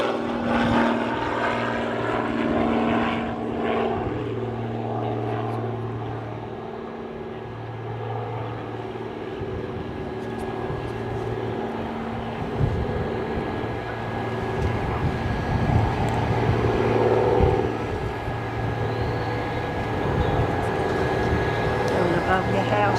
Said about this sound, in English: So I think this was the plane we watched do the missed approach before.